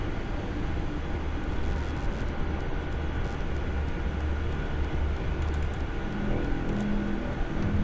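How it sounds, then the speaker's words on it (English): Chinook helicopter in a military video game, a loud, steady rotor and engine drone filling the whole clip with no speech over it. "Chinook's just a little too loud for me tonight."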